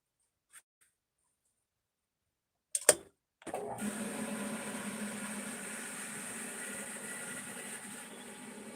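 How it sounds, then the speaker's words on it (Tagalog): Noisy water pump motor starting with a brief clunk, then running steadily with a loud, constant hum and hiss after a quiet lead-in. "Maingay ang motor ng tubig."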